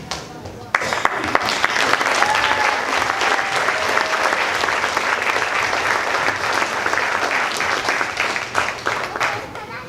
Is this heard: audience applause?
yes